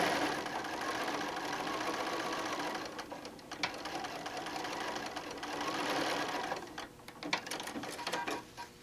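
A sewing machine runs steadily, stitching through a quilt tack on a quilt, a continuous close mechanical whir with slight speed shifts and a few sharper clicks toward the end.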